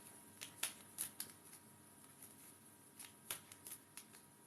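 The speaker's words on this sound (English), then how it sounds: "Let's give these a good shuffle." A deck of reading cards being shuffled close up, a series of crisp riffling snaps and flicks in uneven bursts with no talking.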